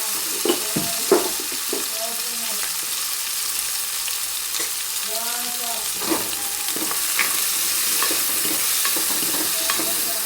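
Chopped tomatoes with salt cook in a pan for rasam, making a constant close sizzle under repeated spoon stirring and scraping, with a few short knocks and no voices.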